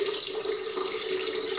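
Coconut water pouring steadily from a container into a blender as a smoothie base, a continuous close liquid splash and trickle that holds even throughout, with no talking.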